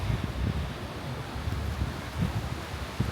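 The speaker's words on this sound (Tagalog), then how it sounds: "malakas ang hangin." Steady, rumbling strong wind at a rough-sea beach on Boracay buffets the microphone in low gusts, with a constant noisy roar and no voices throughout.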